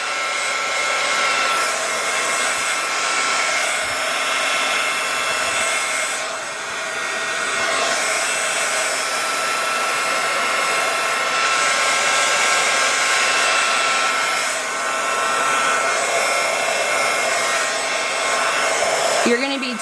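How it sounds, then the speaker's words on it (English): A hair dryer blows steadily at close range to dry paint on a Halloween ghost craft project, a loud continuous whooshing hum lasting throughout with slight swells as it is moved around. "Speed up the drying process for the camera."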